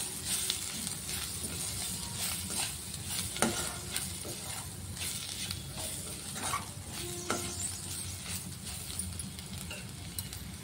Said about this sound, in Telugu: ఒక అర స్పూన్ గరం మసాలా వేసుకొని మరొక 2 నిమిషాల పాటు బాగా వేయించుకోవాలి.